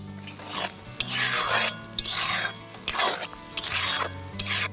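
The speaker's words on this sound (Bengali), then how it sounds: "দিয়ে একটু মশলা ধোয়া জলটা দেব কষানোর জন্য। এখন আমি ভালো করে কষিয়ে নেব।" Spices with salt, turmeric and spice-washing water being sautéed in a pan, heard as repeated scraping, stirring rasps in bursts of about a second with short pauses between, close up and without talk.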